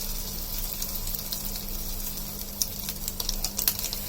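Prawn balls frying in hot oil in a pan, a steady soft sizzle throughout with a few brighter crackles and pops near the end, moderately close, no voices.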